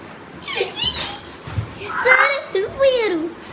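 Dog whimpering in high, wavering whines, with a couple of short barks or yips close by, over faint background chatter.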